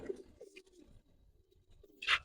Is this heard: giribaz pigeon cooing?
yes